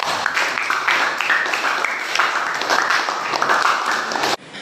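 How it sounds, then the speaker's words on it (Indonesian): Classroom audience applauds in a steady burst of mixed clapping, fairly close and sustained for several seconds, cutting off abruptly near the end. "Beri aplaus untuk mereka berdua."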